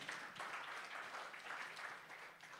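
A church congregation at a Good Friday service claps together, a soft, distant wash of many hands with faintly pulsing rhythm, heard low and steady throughout.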